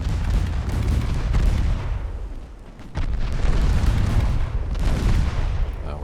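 Rapid, overlapping gunfire from a warship's secondary guns engaging torpedo boats in the naval game Ultimate Admiral Dreadnoughts, with loud continuous booms and low rumble that briefly dip before the barrage resumes.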